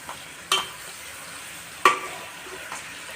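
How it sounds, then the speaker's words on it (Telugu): A low, continuous sizzle comes from gongura chutney cooking in a pan, with two distinct scraping strokes as it is slowly stirred, close and moderately quiet. "ఇప్పుడు ఒకసారి అంతా కలుపుకుందాము. స్లోగా కలుపుకోండి ఇలా."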